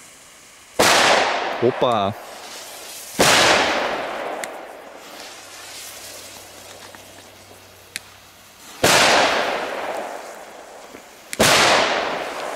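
Consumer fireworks bought at a market are set off outdoors: several loud, sharp bangs spaced seconds apart, each followed by a crackling decay, one with a brief whistle, and a man's short exclamation in between.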